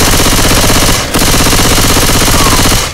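Machine gun firing nonstop in Left 4 Dead 2, loud and close, with a dense rapid rattle and one brief dip about a third of the way through.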